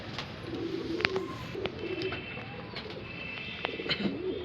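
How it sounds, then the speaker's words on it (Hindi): Shahjahanpuri breed pigeons cooing at close range, soft repeated low coos over a steady background with occasional chirps and light clicks. "बहुत ही लाजवाब कबूतर है।"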